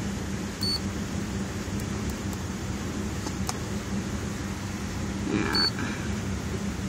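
Steady low rumble of a Mazda 626 engine idling roughly, heard close up and continuous, with a few faint clicks and no voices.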